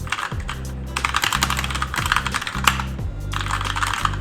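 Rapid typing on a Keychron K2 mechanical wireless keyboard, dense bursts of springy clacking keystrokes up close, set against a repeating low droning background tone.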